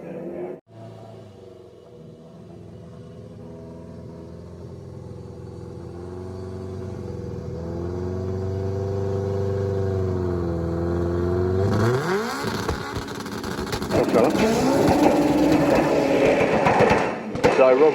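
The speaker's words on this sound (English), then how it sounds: "So Rob Carter with the Audi estate. That thing really picks up and goes against the man himself, Mr. Carl Goldsmith." An Audi estate car makes a drag racing run at Santa Pod during a VW festival qualifying round, its engine droning and building steadily before a loud roaring burst, with a commentator talking throughout.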